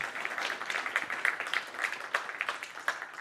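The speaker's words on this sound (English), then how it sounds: "Please express yourself with a nice round of applause." Audience members at an AI talk event give a round of applause for the organizers, a quick, fairly quiet patter of many hands clapping at once with no voices.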